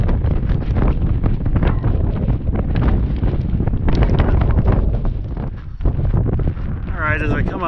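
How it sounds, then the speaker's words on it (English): Steady wind gusting across a high mountain slope a little over 13,000 feet up on Mt Antero, a loud continuous buffeting roar on the microphone with a brief lull near the end. "the wind has started to pick up"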